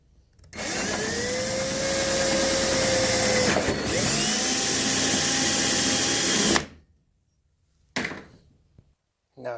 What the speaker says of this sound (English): Now you want to come with a bigger bit.